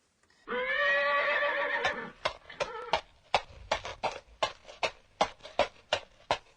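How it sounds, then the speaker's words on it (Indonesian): A horse whinnies loudly and long, then its hooves clip-clop in a steady walking rhythm, about a dozen clear, close hoof strikes on a hard surface. "Itu adalah suara kuda berjalan."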